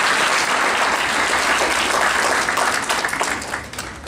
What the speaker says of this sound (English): I think we should clap for Ayurveda.